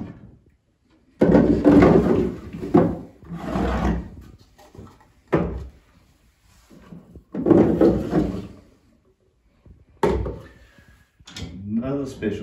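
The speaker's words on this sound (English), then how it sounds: "It opens to reveal a writing surface with pigeon holes, drawers, and a center cupboard." Drawers and a center cupboard of an antique Queen Anne walnut secretaire being opened, with wooden knocks and sliding thumps among pauses, mixed with a nearby voice talking.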